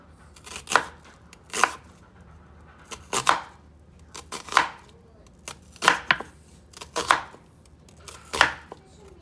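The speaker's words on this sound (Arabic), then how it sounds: "المهم غادي نقطعهم هكا" A knife chops raw potatoes on a board in close, crisp strikes, about a dozen sharp cuts coming in an uneven but steady rhythm with quiet pauses between them and no talking.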